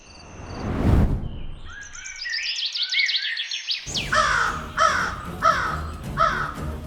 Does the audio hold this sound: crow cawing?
yes